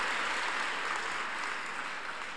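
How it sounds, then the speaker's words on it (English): A church congregation at a combined Sunday service clapping their hands together, a dense, even wash of applause filling the room and slowly easing off, with no talk over it. "Give God a big clap offering. Clap unto him."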